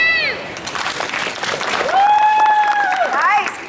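Audience clapping and cheering for a street performer in central London, a burst of applause and shouts from a nearby crowd, with a voice calling out over it.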